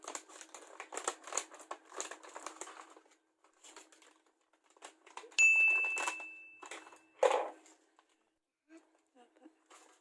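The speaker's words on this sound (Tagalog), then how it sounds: "Una po, bubuksan natin ng crushed Graham." A plastic packet of crushed graham crackers being handled and cut open with scissors in a kitchen: sharp crinkling and rustling bursts, then a brief snipping swell, close by, with intermittent faint crackles and a short ringing tone.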